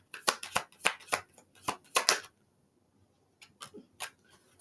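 Tarot cards are shuffled and drawn by hand in a quiet room, a quick series of crisp riffling snaps and slides, then a pause and a few softer card flicks, close and faint.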